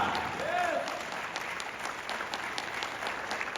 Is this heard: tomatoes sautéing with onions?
no